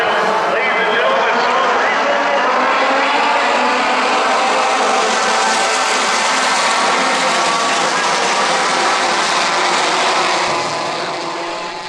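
A field of Pro Formula Mazda race cars rolling toward the start line at Sonoma, a loud sustained engine drone that holds steady and then eases off at the end, with commentary talking over it.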